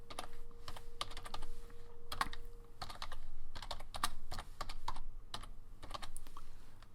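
Rapid keyboard typing in uneven bursts of clicky keystrokes, close and fairly loud, with short pauses between runs and a faint steady hum underneath.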